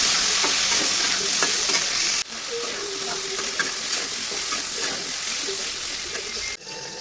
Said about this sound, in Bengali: তারপর এখানে কাঁঠালগুলিও হালকা পরিমাণে একটু তেল দিয়ে ভেজে নিলাম।